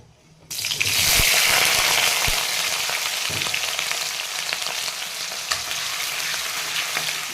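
Potatoes dropped into hot oil in a pan set off a sudden loud hissing sizzle that holds steady and dense, with a few stirring knocks, close and without speech.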